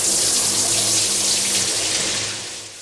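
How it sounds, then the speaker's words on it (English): Jam fruit juice is poured through a cloth-lined rectangular copper sieve into a kettle, producing a steady, loud liquid rush that trails off and softens at the end. "Once cleaned, the juice goes back into the kettle. It passes through a rectangular copper sieve lined with a coarse kitchen cloth."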